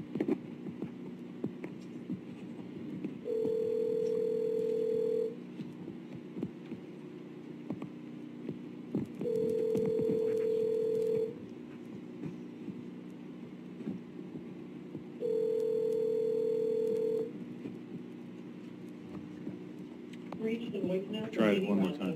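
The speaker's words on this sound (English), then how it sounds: "because the phone's ringing" A telephone rings three times on a county board meeting's conference call line, long evenly spaced electronic tones over a hum-filled, distant room with faint voices between the rings.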